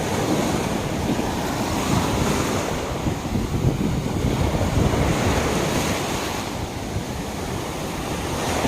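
Strong surf breaking on Na Jomtien beach in Thailand, a continuous loud roar of waves with gusting wind noise, steady and close with no voices.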